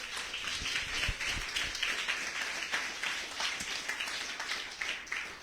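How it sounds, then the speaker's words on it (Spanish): A church congregation claps together in a steady, dense burst of applause filling the room, fairly loud and close, with no voices over it. "¿Le puedes dar un aplauso a Dios, iglesia?"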